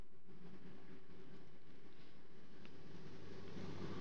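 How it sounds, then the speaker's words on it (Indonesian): A steady low rumble with a broad wash of noise, like a train rolling past at a distance, holding constant throughout without voices. "nah, kereta api lewat"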